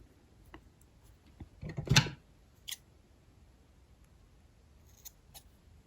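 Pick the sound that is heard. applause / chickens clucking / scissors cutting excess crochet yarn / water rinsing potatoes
scissors cutting excess crochet yarn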